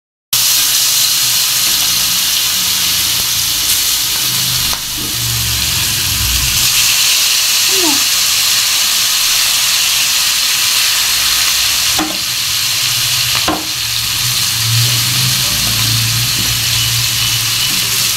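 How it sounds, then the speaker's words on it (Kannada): Pomfret fish coated in semolina fries in a hot pan with a loud, steady sizzle that holds for the whole stretch, broken by a few light clinks. "ಈಗ ಇದನ್ನ ಗರಿ ಗರಿ ಫ್ರೈ ಮಾಡೋಣ"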